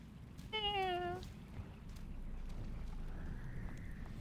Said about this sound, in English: Why did it turn into a cat?